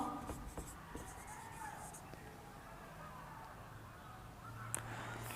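Chalk or marker strokes on a board during a class 11 physics lecture on kinematics, heard as faint scratchy taps and squeaks through a quiet, hissy room while a teacher speaks.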